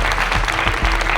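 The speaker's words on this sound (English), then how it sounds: "So can we give them a round of applause?" Steady applause from a keynote speech audience, dense clapping filling the whole moment without a break, fairly loud and close.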